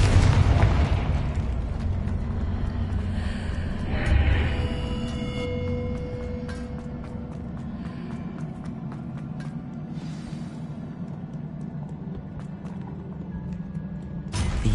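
A Confringo fire-blast spell in Hogwarts Legacy bursts with a loud booming explosion at the start and a second thump near four seconds, then a sustained rumbling magical drone and scattered crackles carry on beneath a game score.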